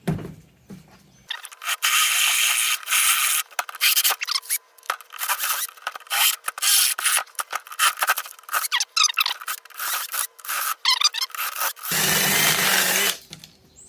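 A power drill whines and grinds in bursts, the pitch straining and squealing as it drills out metal rivets on a third-generation Camaro motor mount, with brief pauses between runs.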